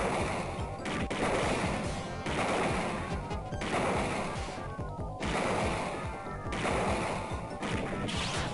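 Gunfire in the Snatcher video game, loud crashing shots in steady repeated bursts, each lasting about a second with short gaps between, close and harsh with no talking.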